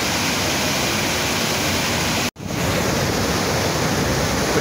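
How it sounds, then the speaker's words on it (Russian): Upper Duden Waterfall in Turkey, heavy water crashing and splashing close by as a steady, dense roar that continues throughout, with one very brief dropout in the middle. "При приближении к водопаду очень много брызг."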